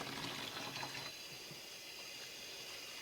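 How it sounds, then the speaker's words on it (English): Hot water gushes steadily from a tap, a continuous hiss and splash close by with no voices. "Hot water! Hot water!"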